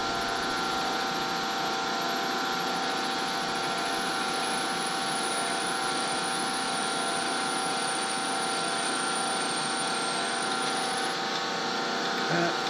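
A drill bores a deep hole into a bronze workpiece for a bronze and damascus thunder mug, a steady, loud grinding whine with a high ringing tone that runs unbroken for about eleven seconds before easing off.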